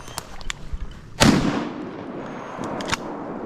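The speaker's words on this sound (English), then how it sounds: "I'm gonna shoot him." A shotgun blast during a duck hunt on Arkansas public land, one loud close boom whose rumble trails off, with fainter clicks and handling noises before and after.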